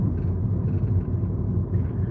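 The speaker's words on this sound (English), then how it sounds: "that rattling noise you can hear is a very rude thing currently in my back window" Steady low road rumble from inside a moving car, with faint light rattling from an object loose in the back window, close and continuous throughout.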